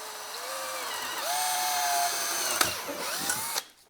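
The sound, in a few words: power drill drilling a hole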